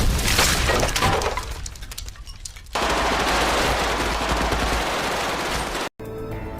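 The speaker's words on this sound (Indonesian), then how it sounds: "Mereka langsung menembak membabi buta." Gunfire in a film action scene: loud rapid machine-gun bursts with shattering glass, a brief lull, then sustained heavy firing that cuts out abruptly near the end before resuming.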